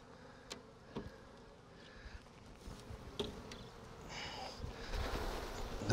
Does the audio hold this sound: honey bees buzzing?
yes